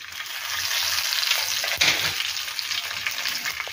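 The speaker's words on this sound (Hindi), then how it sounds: "जीरा डाला है पहले मैंने और साथ लहसुन डाला, जीरे का मैं तड़का लगाती हूँ।" Cumin seeds and garlic sizzle and crackle in hot oil for a tadka for kadhi pakora, a steady, close, bright frying hiss with a brief flare near the middle.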